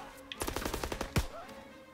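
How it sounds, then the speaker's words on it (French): Gunfire in the World War II video game Call of Duty WWII, heard as a rapid burst of machine-gun shots followed by one heavier blast, loud and close with no talk. "Des balles qui fusent, des explosions"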